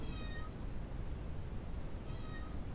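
A cat gives two short meows, one near the start and one toward the end, heard faintly above a loud steady broadband hiss.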